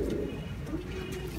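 Pigeon giving low, throaty coos close by, a soft rolling call repeated over a brief moment with steady background noise and no talking.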